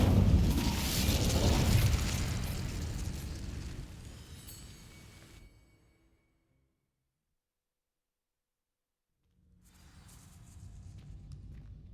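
A fire spell cast in the video game Hogwarts Legacy bursts out as a loud, roaring whoosh that fades over several seconds into silence, before faint ambient rumble returns.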